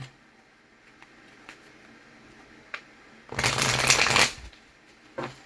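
A deck of tarot cards is shuffled in one quick, loud riffle after several faint taps and card handling sounds.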